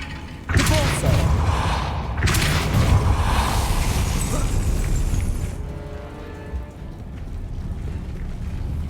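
A Depulso force spell in Hogwarts Legacy lands as a loud booming burst with a shattering impact, followed by a second blast and a rumbling, debris-like wash that fades into quieter ambience.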